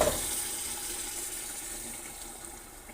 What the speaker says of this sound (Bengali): এখন এটাতে আমি পানি দিয়ে দিচ্ছি।